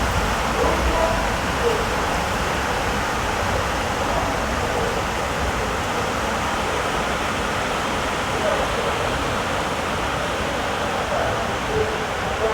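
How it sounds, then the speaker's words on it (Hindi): Heavy rain pours steadily at a station as a passenger train departs on the Raipur–Itwari passenger run, a constant dense hiss of downpour filling the whole scene without letup. "मूसलाधार बारिश के बीच में डिपार्चर हुआ है भाइयों।"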